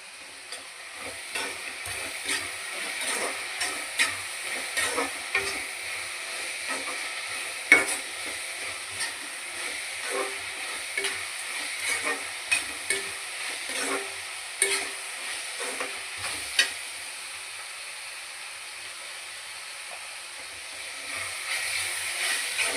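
Onions sautéing in a pan give a soft, steady sizzle with intermittent scraping stirs of a utensil, fairly quiet and close, with no voices.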